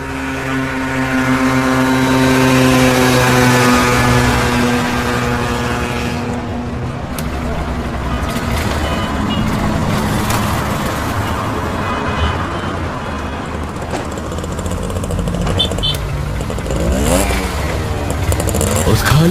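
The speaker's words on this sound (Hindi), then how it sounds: "बाइक गिरीश चला रहा है और निकुंज उसके पीछे बैठा हुआ है।" Motorcycle engine in an animated horror story, a steady loud drone that rises and shifts in pitch as it rides along, with speech over it.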